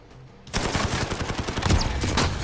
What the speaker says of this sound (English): I just got like a 40 meter long shot by hip firing an assault rifle